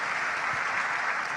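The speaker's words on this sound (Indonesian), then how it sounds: "Yang setuju berikan tepuk tangan yang meriah buat Tuhan" A church congregation claps in steady, dense applause, continuous and fairly loud for a brief moment.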